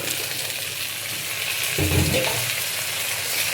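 Potatoes hit hot oil with crushed garlic in a pan, a steady close sizzle that swells into a louder hiss as they go in, with no talk.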